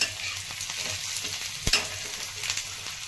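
Bombil fish and onions fry in a pan with salt and garlic chutney, giving a continuous close sizzle under scraping stirs and one sharp spatula knock against the pan.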